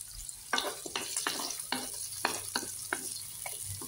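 Ginger fries in a pan of hot oil, hissing in a soft steady sizzle broken by repeated crackling bursts as it is stirred, fairly faint and with no voices.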